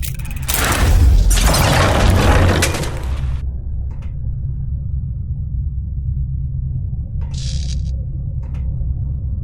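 Bomb explosions go off in Verne: The Shape of Fantasy, a loud, close blast that rumbles heavily for about three seconds before dropping to a low hum, followed by a couple of brief faint clatters.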